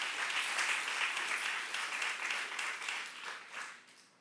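Sustained applause from a church youth congregation fills the space during a sermon, a dense, steady patter of many hands that gradually thins toward the end.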